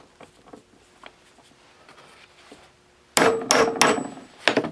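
JIS screws being loosened on a 1971 Honda CT70 motorcycle with a non-JIS bit: light ticks and taps at first, then a loud burst of sharp metallic clanks and knocks close to the mic, with no talking.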